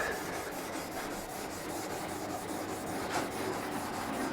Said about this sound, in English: just gonna take some Scotch-Brite and we're just gonna run it across here back and forth like this